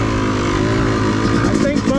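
A dirt bike engine idles low on an OHV trail, set a little too low, putting out a loud, steady, rumbling drone with a slight wavering in pitch near the microphone.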